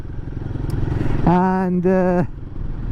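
A Royal Enfield Guerrilla 450 motorcycle engine labours at low revs on a village ride, a steady tonal drone swelling for about a second amid background rumble and wind, with a brief spoken word.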